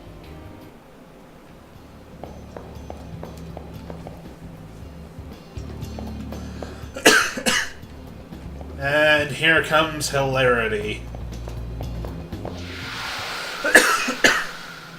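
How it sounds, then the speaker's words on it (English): One person coughs in a few harsh bursts amid faint game background sounds, with some speech between the coughing fits. "So sorry about all the coughing, guys."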